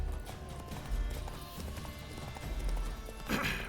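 Hooves of the horse Roach clip-clop steadily in Witcher 3, a fairly quiet mid-distance gait with a brief louder burst near the end.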